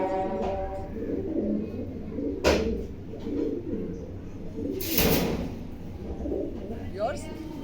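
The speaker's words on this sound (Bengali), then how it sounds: "এই দেখেন প্রত্যেকটা কবুতর আমি ছেড়ে দেখাচ্ছি ভিউয়ার্স" Racing pigeons, including hens, of the Chinese nasal tuft type, coo in a loft with low, repeated throaty calls that overlap, plus a couple of brief louder bursts and some faint human voice.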